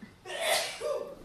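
A single sharp sneeze, close and fairly loud, with a quick intake of breath before the burst and no talking during it.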